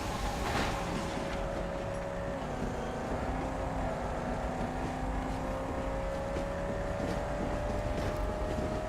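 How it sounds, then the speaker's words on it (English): Vehicle engine from the Mad Max video game, a steady droning hum with a slowly rising tone, continuous and fairly loud throughout with no talk. "My engine goes vroom, vroom."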